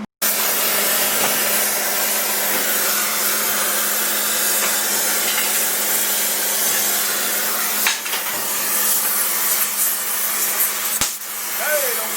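Steady roaring hiss of a torch heating steel for a trailer hitch on a 1946 Ford, continuous and close for the full length, with a couple of brief knocks near the end.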